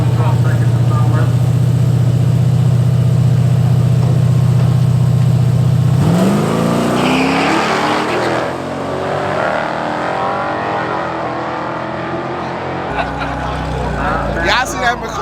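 A McLaren 720S with carbon fiber bodywork on the drag strip at Orlando Speedway: a steady engine drone gives way to a rising, revving launch that roars off, loud and close, with crowd noise around it.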